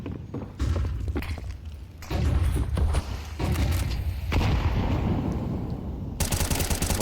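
Gunfire in Counter-Strike 2 during a StarLadder Budapest Major esports match, with bursts of rapid automatic shots and heavy thuds layered over a dense game soundscape, loud and close throughout.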